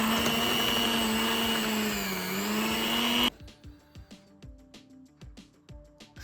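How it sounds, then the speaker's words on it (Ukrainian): A handheld electric mixer whips a cheesecake cream-cheese mixture with a loud, steady motor whine that shifts slightly in pitch, then cuts off abruptly, followed by scattered clinks and clicks of kitchen utensils. "Можна і в планетарному, можна і таким звичайним ручним міксером. Зараз все трохи збиваємо."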